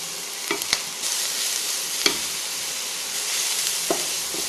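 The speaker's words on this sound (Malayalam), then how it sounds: "ഒന്ന് വാടിയതിനു ശേഷം മത്തങ്ങയും കൂടെ ചേർത്ത് 1-2 മിനിറ്റ് നന്നായിട്ട് വഴറ്റിയെടുക്കാം" Shallots and pumpkin sautéing in a pan for a Kerala pumpkin kichadi, giving a steady close sizzle with a few sharp utensil taps and scrapes.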